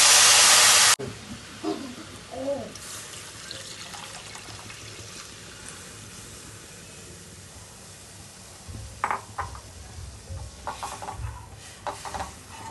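Milk goes into roasted vermicelli in a hot pan for sheviyanchi kheer, opening with a loud hissing rush that quickly drops to a soft simmer, followed by scattered stirring clinks and scrapes.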